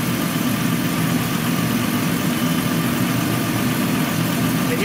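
A 2007 Chrysler Pacifica engine with an injector fault idles with a steady, even rumble and faint vibration, close by and unbroken throughout.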